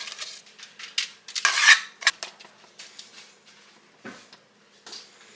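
Utensils scrape and clatter against a pan as thick butterfinger fudge is moved into it, with a louder burst of rubbing and scraping midway, then lighter knocks and a dull bump near the end, no talk.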